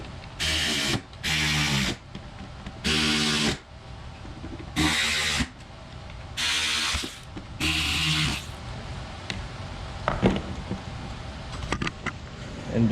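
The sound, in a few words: putting mounting screws back in cooling fan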